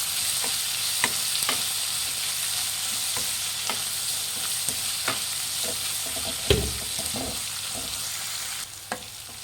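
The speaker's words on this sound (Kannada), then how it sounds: "ಉಪ್ಪು ಹಾಕಿದ್ಮೇಲೆ ಚೆನ್ನಾಗಿ ಫ್ರೈ ಮಾಡಿ." Onions fry in a pan with salt for mango chitranna, a steady close sizzle with regular light spatula taps and one louder scrape, no voices.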